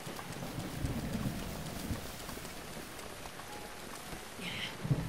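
Steady in-game rain from The Legend of Zelda: Breath of the Wild, a constant soft hiss of falling drops with faint low rumbles of thunder underneath, fairly quiet throughout.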